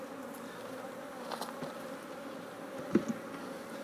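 Honey bees buzz around an open hive, a steady faint hum with a few brief louder passes close by, no talking.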